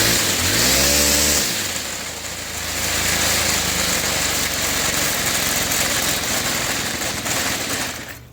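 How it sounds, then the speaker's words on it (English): A Stihl FS110R string trimmer with a jammed clutch, due a new carburetor, starts with a brief rising rev, then settles into a steady, loud, buzzing low idle that runs on unbroken. "Go ahead and start it, and I'll leave it at low idle"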